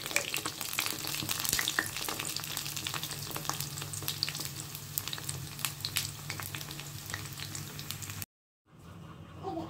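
Whole garam masala spices hit the hot oil left in a karai after frying lentil fritters, crackling and sizzling busily for several seconds before a sudden cut to near silence and a quieter tail.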